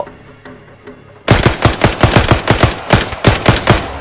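Gunfire from a SCAR rifle in the Arena Breakout video game bursts in after a quiet moment, a loud rapid string of close automatic shots in quick rhythmic bursts.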